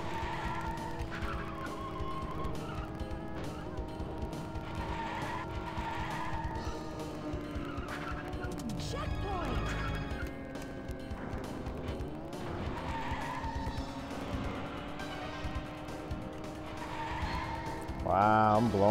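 Continuous tyre skidding and squeal from a car drifting in Cruis'n World on the Nintendo 64, layered over a constant engine drone and game music, with the screech swelling and fading in waves.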